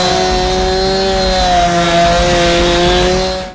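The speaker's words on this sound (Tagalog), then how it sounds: "Sinimulan niyang paandarin ang chainsaw sa harap ng dalaga." A chainsaw engine runs loud and close with a steady, droning whine held for several seconds before cutting off abruptly at the end.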